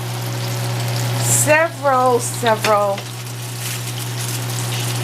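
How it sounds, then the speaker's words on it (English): Fish fries in a hot pan, a steady close sizzle running under a voice that speaks briefly in the middle. "watch that sizzle"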